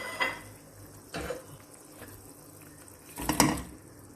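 A spoon stirs potatoes and eggs in a cooking pot, making three distinct metallic scrapes and knocks spaced over a few seconds against a low steady background hiss.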